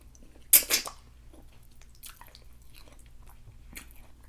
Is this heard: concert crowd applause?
no